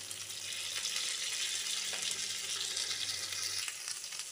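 Potato and pointed gourd pieces sizzle in a pan of oil for a simple rohu fish curry, giving an even, soft crackling hiss that runs steadily with no talking.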